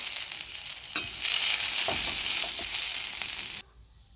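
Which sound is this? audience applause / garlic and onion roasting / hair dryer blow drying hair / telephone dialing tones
garlic and onion roasting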